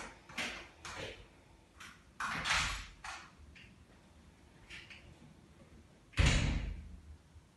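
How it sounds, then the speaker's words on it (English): Several loud knocks or door thuds in a quiet room during an online yoga class, arriving as scattered separate hits with a heavier bang near the end. "I heard some knocking."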